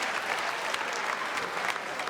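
Audience applause, a dense, steady burst of many hands clapping close by and loud throughout, with no voices on top.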